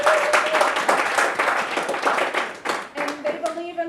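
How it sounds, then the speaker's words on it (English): Brisk audience applause for festival sponsors, rapid clapping that thins out toward the end as a voice begins speaking over it. "please give them a round of applause because they believe in us."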